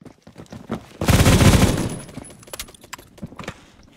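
An STG-44 rifle in the video game Phantom Forces fires one loud, sustained automatic burst lasting about a second. Scattered clicks and handling sounds surround it, and no one talks.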